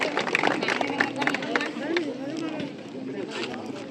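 A crowd at an outdoor village gathering applauds the village council head, a busy patter of clapping mixed with chatter and a voice speaking over it, gradually thinning out.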